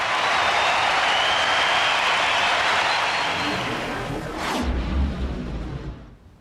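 A home crowd roars at a tennis match between Boris Becker and Pete Sampras after a Sampras volley goes long, a dense, loud wash of cheering and applause that swells, then fades away near the end.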